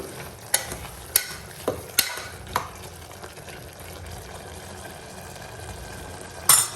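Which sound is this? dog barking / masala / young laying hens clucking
masala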